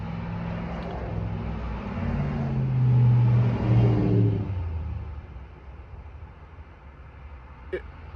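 A road vehicle passes nearby, its engine rumble building to a loud peak and then fading away over several seconds, with a brief click near the end.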